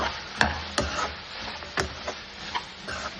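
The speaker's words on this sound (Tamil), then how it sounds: "அது கூட இஞ்சி பூண்டு பேஸ்ட் போட்டு நல்லா மிக்ஸ் பண்ணிக்கலாம்." A spoon stirs ginger garlic paste into onions frying in a pan, giving irregular sharp taps and scrapes against a soft background sizzle.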